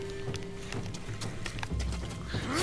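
Hooves clip-clop steadily from horses in a video game, with the odd whinny and game effects over a busy background; no one talks over it.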